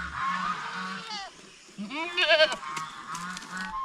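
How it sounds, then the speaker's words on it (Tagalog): Young male blackhead goat bleating in a farm setting, several wavering cries in a row, fairly close, with a second burst of louder calls midway and low background noise between. "Anak yan sa ating blackhead na kambing."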